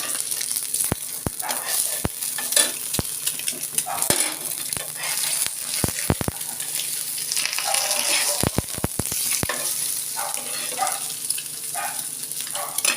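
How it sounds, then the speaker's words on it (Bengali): Eggs frying in hot oil give a steady, close sizzle, broken by scattered sharp pops and spatters. "এই গরম গরম ডিম ভাজা হচ্ছে দেখতে পাচ্ছেন এরা ডিম ভাজবো তেল দিয়েছি"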